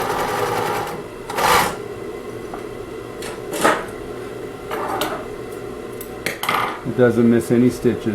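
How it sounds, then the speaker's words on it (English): Singer 20U33 industrial sewing machine stitching, with short bursts of mechanical clatter and rattling between steadier running, and someone talking briefly toward the end. "I'll show now, as I have been, that it's very well timed."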